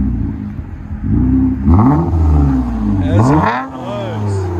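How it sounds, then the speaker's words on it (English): A 2021 Toyota Camry V6 with a muffler delete and a Vibrant resonator in the middle revs with a loud, raspy exhaust note that rises and falls, while people talk over it. "21 Toyota Camry V6. Muffler delete and vibrant in the middle."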